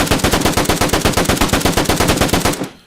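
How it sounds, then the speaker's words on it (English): Rapid automatic fire from a KM72 7.62 AK rifle in a video game mod, about twenty-five evenly spaced loud shots in a steady fast rhythm, stopping abruptly with a short tail. "Next along was the KM72 762 version of the AK. This does sound a lot meatier."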